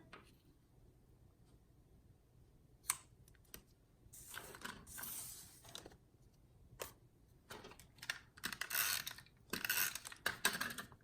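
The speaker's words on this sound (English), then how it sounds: "getting all of the holes punched out of that gorgeous lace" A hand punch cuts holes through lace-patterned paper for a handmade greeting card, giving sharp, irregular clicks and crunching snips, sparse at first and then in quicker clustered bursts, close and fairly quiet with no talking.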